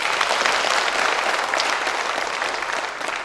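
Audience applause for a guest honoured at a social activist's speaking event, a dense steady clapping that holds at full strength across the whole stretch with no voices over it.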